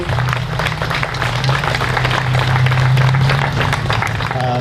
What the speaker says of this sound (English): So let's give all the Shriners a big round of applause for what they do